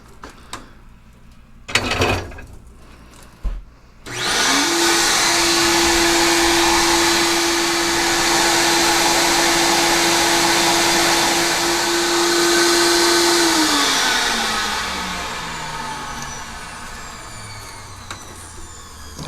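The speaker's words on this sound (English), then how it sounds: "let's get these in the blast cabinet here and get these cleaned up" Sandblasting rear dual-piston brake calipers from a 2011-2019 Ford Super Duty in a blast cabinet: a few knocks, then a loud sustained hissing roar with a steady whine for about ten seconds before it tapers off.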